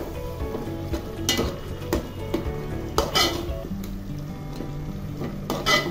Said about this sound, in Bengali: টমেটোকে কুচি করে দিয়ে মিশিয়ে দিচ্ছি